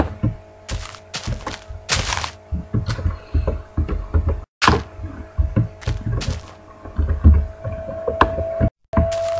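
Buttons placed on blocks in Minecraft, a video game: a steady run of soft thunks and knocks, dozens of short dull hits in uneven clusters with brief silent gaps between them.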